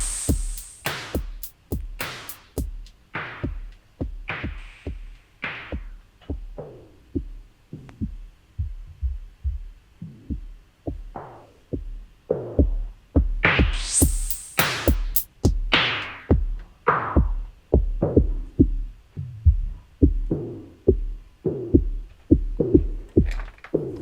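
A synth signal runs through a Eurorack filter module as a series of sharp, pulsing bass hits with shifting resonant sweeps, the brightness rising and falling across a steady rhythmic pattern, with no voices.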